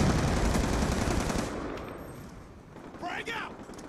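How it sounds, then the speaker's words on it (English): Death Machine, an oversized rapid-fire gun in Call of Duty: Black Ops 2 multiplayer on Wii U, pours out a loud continuous burst that fades after about a second and a half, with a short flare of game effects near the end. "somebody's got a death machine. It's like an Uber machine gun."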